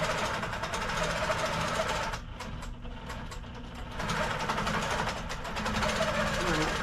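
A long-arm sewing machine stitches through an insulated tote bag with a fast, steady mechanical whir and needle chatter, pausing for about two seconds partway before resuming, close and continuous with no voices over it.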